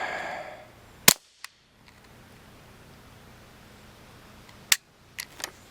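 A Taurus TX22 Gen2 pistol misfires with two short, sharp clicks a few seconds apart, the second followed by a couple of softer mechanical clacks, all set against quiet outdoor background hiss.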